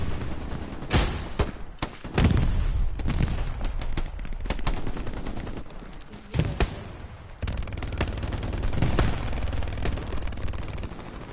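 Heavy gunfire from the World War II shooter game Hell Let Loose: loud, dense volleys of rifle and machine-gun shots rattle almost nonstop, with sharper cracks standing out through the continuous din.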